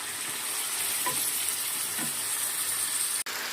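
Chicken pieces frying in hot oil for a Bengali chicken curry, a close, steady hissing sizzle with a couple of soft stirring scrapes and a brief cut near the end.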